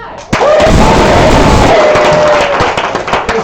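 An improv show audience bursts into loud, close applause and cheering during a live theater performance. The crowd is dense and sustained, then tapers, with a voice heard faintly over the noise.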